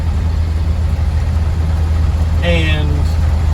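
A 1949 Chevy 3600 truck engine idles with a low, steady rumble throughout, joined briefly near the end by a short tonal whine or squeal.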